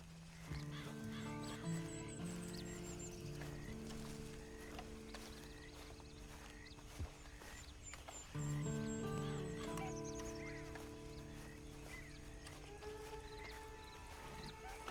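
Horse in the western video game Red Dead Online, whinnying and snorting with hoof clip-clop over low game music and ambient bird calls, moderately close.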